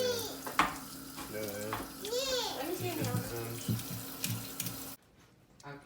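Water runs from a tap as something is rinsed off, a soft, steady splashing under quiet speech that cuts off abruptly near the end.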